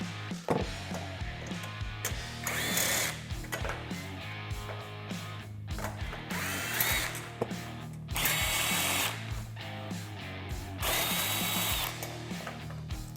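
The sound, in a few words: power tool removing rear roof hardware on Polaris RZR Pro XP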